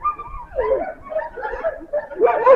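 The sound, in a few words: sled dog barking at Denali National Park kennels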